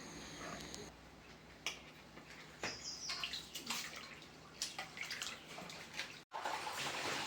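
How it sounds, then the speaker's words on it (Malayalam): Rice washed in water with sloshing, splashing and light trickling, broken by several sharp wet knocks and short splashes, fairly close, with no voices. "അരി നന്നായിട്ട് വാഷ് ചെയ്ത് ഇനി ഇങ്ങനെ വെള്ളം പോകാനായിട്ട് ഇതിനകത്തോട്ട് ഇടുവാണ്"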